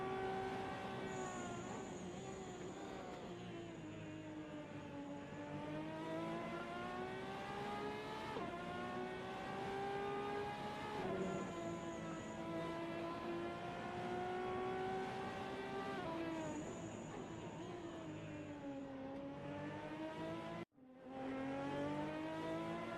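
Race car in the SRA Vivid IT ProCar Series on its out lap, with a steady engine drone that rises and falls in pitch through repeated gear changes, heard alone with a brief dropout near the end.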